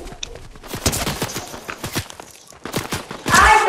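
Bursts of gunfire from a Fortnite match, several sharp shots in quick clusters with rattling impacts, fairly close and loud, ending in a dense noisy burst.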